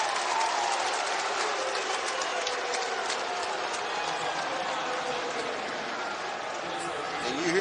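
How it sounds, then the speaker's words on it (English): Basketball arena crowd during an NCAA men's college game between Vanderbilt and Alabama, a sustained broad roar of boos filling the arena at a steady level, with a commentator talking faintly over it. "you hear some boos from the crowd"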